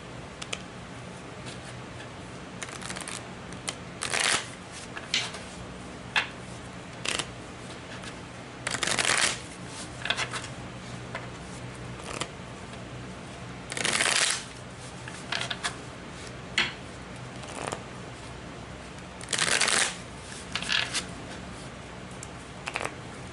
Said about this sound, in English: Like I need to keep shuffling,